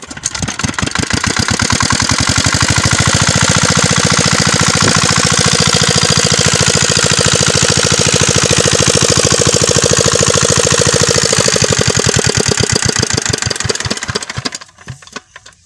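A machine's engine runs loud and steady with a fast knocking, chugging pulse for about fourteen seconds, then cuts out abruptly near the end, leaving quiet.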